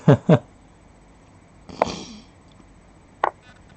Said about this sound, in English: Oh, that was a really bad sniffle there.